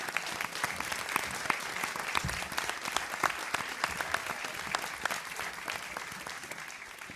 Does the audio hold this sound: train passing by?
no